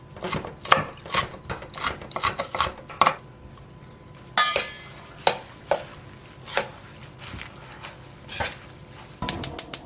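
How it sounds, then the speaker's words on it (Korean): Knife mincing mild cheongyang chili peppers on a board, with quick, close, uneven chopping taps in clustered bursts and brief pauses between them. "안독한 청양고추 다져 넣겠습니다."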